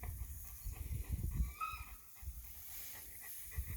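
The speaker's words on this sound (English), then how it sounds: "the puppy in the background having a meltdown" A faint, high-pitched whimper from a Cane Corso puppy sounds in the background, a few thin whining notes over a quiet, low rumble.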